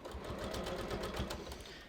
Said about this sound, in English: my needle is going to be sewing right next to that.